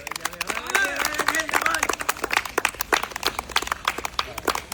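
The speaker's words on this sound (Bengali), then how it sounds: "সবাই একটা জোরে তালি হবে।" An audience at a blindfolded prize challenge game claps loudly in scattered, rhythmic bursts, with a voice speaking over the start before the clapping takes over.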